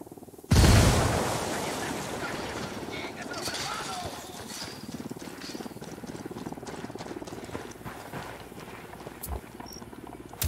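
A frag grenade goes off in Ghost Recon Wildlands, one loud, close blast half a second in that decays into a long rumbling tail with scattered sharp clicks and voices underneath.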